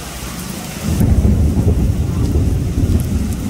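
Heavy rain pours down on a flooded road in Raipur at night, with a deep rumble of thunder rising after the first second and rolling on under the steady downpour; no voices.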